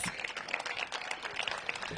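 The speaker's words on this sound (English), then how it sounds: "Let's give Nathan another big round of applause." Applause from a crowd at a ribbon-cutting ceremony for a housing development, a steady dense patter of many hands clapping at moderate distance, continuing without pause and mostly alone.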